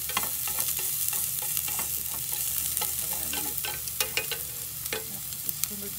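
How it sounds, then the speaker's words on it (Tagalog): Garlic and ginger sauté in a hot pan for chicken, giving a steady close sizzle with a low hum beneath and repeated clinks and scrapes of stirring throughout. "Gisahin natin yung garlic at saka yung"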